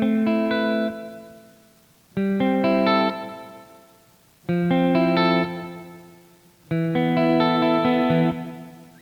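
Electric guitar through an amplifier with its reverb turned all the way up, four strummed chords each ringing out and decaying, with a washy tail after every strum.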